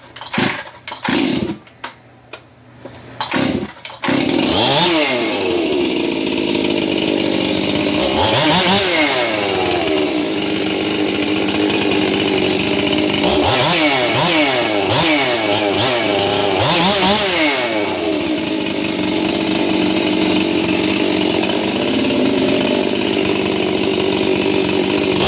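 A Stihl MS 362 chainsaw with a muffler mod: a few short pulls and sputters, then the engine catches and runs loud and close, revving up and down repeatedly over a steady rasping idle.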